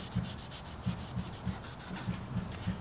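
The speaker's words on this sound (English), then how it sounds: "Now we just have to scuff the surfaces so we can prep it for the adhesive" Scuffing prep on a carbon fiber roof panel for an E46 M3 CSL conversion before adhesive goes on: a soft, rhythmic rubbing with repeated strokes at close range, fairly quiet, with no talking.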